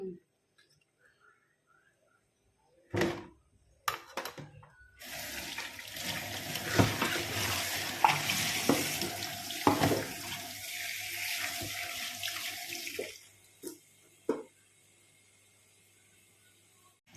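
Running tap water rinses a cleaned tilapia fish, a dense close splashing stream lasting several seconds between clattering knocks and handling sounds, with someone talking around it.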